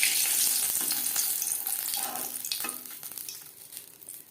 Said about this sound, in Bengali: লঙ্কা ক্রিস্পি করে ভেজে নেব।